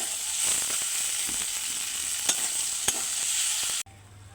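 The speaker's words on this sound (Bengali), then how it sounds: "ভালো করে নাড়াবো।" Vegetables stirred into a fried spice paste that has released its oil, with a steady close sizzle and a few sharp scrapes of the spoon against the pan, ending abruptly.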